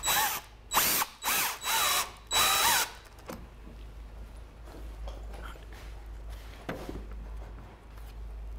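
A power drill drives screws into pallet wood in four or five short, loud whirring bursts, then quieter handling knocks and taps follow over a low background hum.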